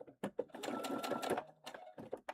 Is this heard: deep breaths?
no